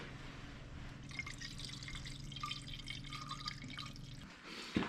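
Distilled water pours and gurgles in uneven glugs over a steady low mechanical hum, then stops with a brief knock at the end.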